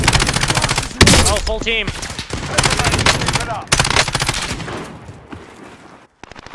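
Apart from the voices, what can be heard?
gunfire in Modern Warfare video game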